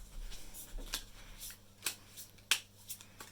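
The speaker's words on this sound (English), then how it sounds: "So here, shuffle them." Tarot cards being shuffled by hand, a series of soft riffling flicks and slaps at an uneven pace, close by and quiet against a low background hum.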